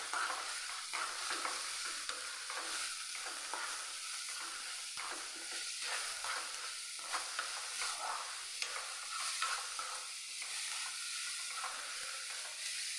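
Sliced onions sauté in a hot pan for samosa filling, giving a steady, close hiss and sizzle with soft stirring scrapes throughout and no talking.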